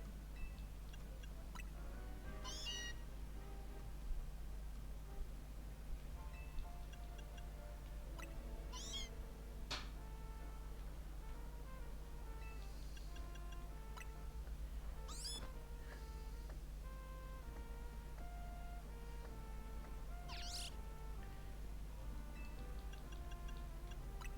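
A Meowth in Pokémon Legends: Z-A gives short, faint meows at intervals. A steady low hum and soft ticking game sounds run under them.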